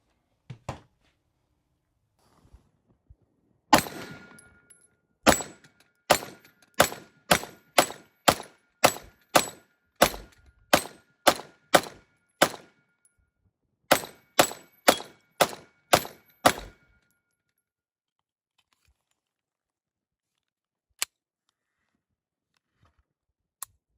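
A Sig P211 GTO 2011 pistol fires outdoors in a rapid string of about twenty sharp, loud shots with a brief pause midway, then one isolated shot several seconds later, with no talk.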